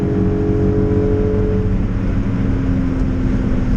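A Volkswagen Corrado engine at wide open throttle, warming the catalytic converter for a smog dyno test, a loud continuous droning roar with steady low harmonics, close and alone without speech.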